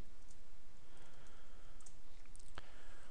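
Keys clicking on a computer keyboard as a command is typed into a Juniper SRX firewall console, a quiet steady patter of taps with one sharper click near the end.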